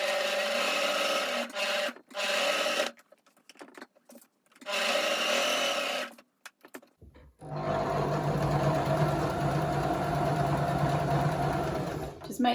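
Sewing machine stitching all the way around the layered edge of a homemade fidget quilt with ribbons, in steady whirring runs broken by short pauses, then one long continuous close stretch of stitching.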